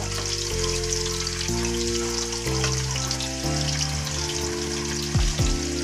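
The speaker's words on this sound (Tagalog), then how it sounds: "patatas naman ipiprito din" Potatoes, cut unevenly, sizzle loudly in hot oil for a chicken kaldereta, a steady close frying hiss over a low droning hum, with a couple of brief clatters near the end.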